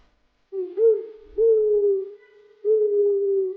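Owl hoots three times as smooth, sustained tonal calls with a slight upward swoop at the start of each, clear and close against silence, within a children's alphabet learning song.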